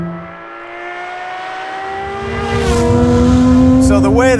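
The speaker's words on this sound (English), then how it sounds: "revs up is insane, and then the noise of it with that exhaust system, it sounds like a full-blown race car" The engine of a Ferrari 599XX-based Talos XXT, rated around 660 horsepower, howls through its exhaust system as it revs steadily higher and grows louder, with a brief tire or gearshift chirp near the end.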